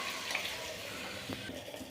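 Water is poured into a cooking pan of manja, the edible banana stem, during cooking, giving a steady watery pour and splash that runs through the whole moment without speech.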